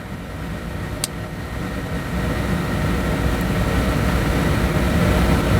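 A six-speed motorcycle engine runs with a dense, steady rumble that swells gradually as the throttle opens, with a sharp click early on and no talking.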